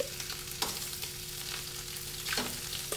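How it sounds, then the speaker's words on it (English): Shrimp searing in a hot skillet, a steady close sizzle with a few sharp crackles and pops as pieces are moved around the pan. "going to take our shrimp and give them a quick sear"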